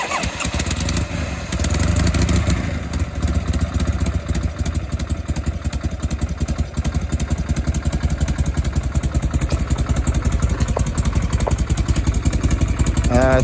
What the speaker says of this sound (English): Motor's super quiet, no ticking.